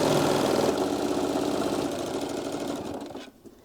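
A sewing machine runs continuously while stitching a table runner, a steady whirring motor hum with fine rapid needle chatter that fades slightly and stops near the end.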